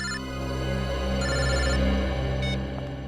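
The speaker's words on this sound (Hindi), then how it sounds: "मोबाइल कंपनी वालों का फोन था।" A telephone rings loudly and continuously in an office-like setting, a steady electronic tone pattern repeating in short bursts over a constant low hum, with no voices.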